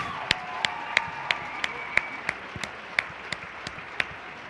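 Crowd applause at a home men's college basketball game between Carthage and Wheaton, a steady wash of clapping with sharp individual claps popping out over the noise, moderately near and continuous with no talk.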